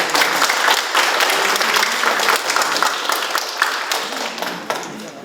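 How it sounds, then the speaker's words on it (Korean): An audience at a Korean youth event claps to welcome the host, a thick, continuous wash of applause that stays loud throughout and tapers slightly at the end. "여러분 큰 박수로 환영해 주십시오."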